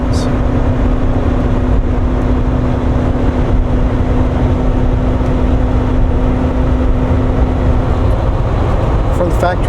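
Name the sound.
Volvo truck engine cruising in top gear at 65 mph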